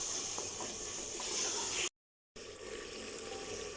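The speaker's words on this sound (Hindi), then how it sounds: "अब इसको इतना भूनूंगी कि इसका पानी जो है वो ड्राई हो जाए" Minced meat frying in a pan as its moisture cooks off, heard as a steady broadband sizzle and hiss close up, briefly cut by a short silent gap before the sizzling resumes.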